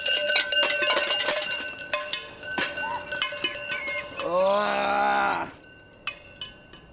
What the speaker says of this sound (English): their kitchen utensil band woke me up with a budget version of the musical Stomp